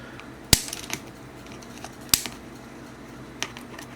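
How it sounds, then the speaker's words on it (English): Small cutters snip the coil leads on an Augvape Occula RDA vape deck, giving two sharp, close clicks a second and a half apart and then a fainter third snip in a quiet room. "and cut the leads."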